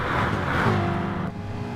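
A Ford Mustang race car in an endurance sim race at Spa, its engine roaring loud and close at high revs with a steady tonal drone that shifts slightly partway through.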